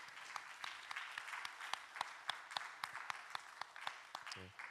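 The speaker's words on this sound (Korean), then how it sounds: "우리 김한규 장로님 내려가실 때 다시 한번 우리 감사의 박수하겠습니다." A church congregation at a Sunday service gives a steady round of applause in thanks as an elder steps down, evenly spaced claps continuing throughout at a fairly low level.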